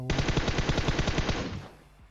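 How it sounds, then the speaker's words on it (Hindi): An M249 machine gun fires from a hill in PUBG Mobile, one rapid sustained burst of loud evenly spaced shots that stops abruptly and leaves a fading echo. "ऊपर पहाड़ी की तरफ कोई एम टू फोर नाइन रहा होता है सौ गोलियां चला रहा होता है"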